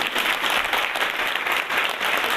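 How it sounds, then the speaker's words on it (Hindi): A seated audience at a youth association event in Kota breaks into dense, steady clapping that fills the room evenly from start to finish. "तालियां बजाएं"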